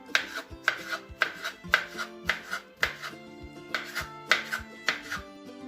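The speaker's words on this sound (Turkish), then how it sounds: "Kalan lahanaları şöyle ince ince kırıntı olan lahanaları doğradım" A knife chops cabbage repeatedly on a cutting board, steady crisp strokes about twice per second, close and clear with music playing underneath.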